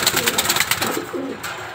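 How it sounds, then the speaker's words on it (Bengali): A male pigeon in a cage courts nearby females with repeated soft, throaty coos in a steady rolling rhythm, close to the microphone and heard alone. "এই যে পাশের খাঁচায় নর আছে, নর কীরকম করতেছে মাদের সাথে জোড়া নেওয়ার জন্য"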